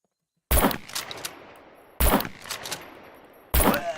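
Three loud, separate gunshots in the survival video game SCUM fire at even intervals of about a second and a half from silence. Each sharp crack trails off into a ringing echo.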